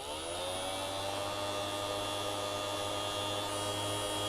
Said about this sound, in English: the nice thing about these Orbital sanders is you can just stay in place and it will orbit around and give you the best possible sand